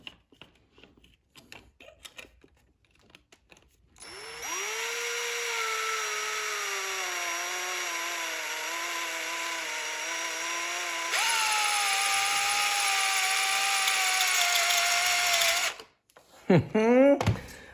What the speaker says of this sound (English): we need to drill those 2 holes that'll line up with these corresponding holes in the handle